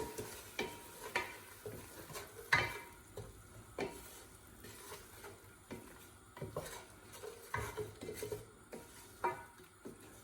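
A spoon stirs garlic butter lobster in a pan, making repeated scraping and clinking strokes over a soft, faint sizzle, fairly close and without any talk.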